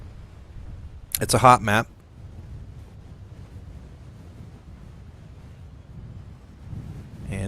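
Wind blows across the Forsaken map in the MechWarrior Living Legends video game as a soft, steady low whoosh, with a short spoken line early on.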